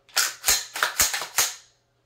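A rifle fires rapidly at an outdoor shooting session: six sharp reports come in quick succession over about a second and a half, each decaying fast, with no voices.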